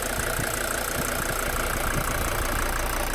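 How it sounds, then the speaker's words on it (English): Diesel engine of a Mercedes 410D van idling steadily, a continuous close, loud rumble with a faint rhythmic knock throughout and no voices. "Engine's running."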